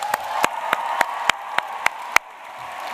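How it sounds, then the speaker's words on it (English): Applause from a graduation ceremony audience: a few sharp, close claps in a steady rhythm over a continuous wash of crowd noise, stopping shortly before the end. "could you please join me in giving yourselves one more round of applause?"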